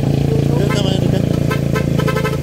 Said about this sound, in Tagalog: ganda ng busina oh